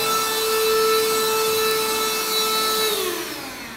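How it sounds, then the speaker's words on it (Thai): A cheap cordless handheld HAN RIVER vacuum cleaner with 18000 Pa suction scrubs and sucks at a floor, giving a steady, close, whining motor hum over a rough brushing noise. Its pitch slides down as the motor slows near the end. "ขัดแล้วก็ดูดแบบนี้นะครับ"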